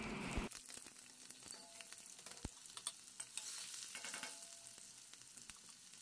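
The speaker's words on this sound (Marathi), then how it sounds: "जिरे व्यवस्थित तळले गेले की लगेच लसूण आणि मिरची घालायची आहे" Cumin, garlic and green chili fry in hot oil in a kadhai, with a steady quiet sizzle, a splashy burst when the ingredients go in, and light clinks of a stirring spoon.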